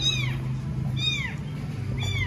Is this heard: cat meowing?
yes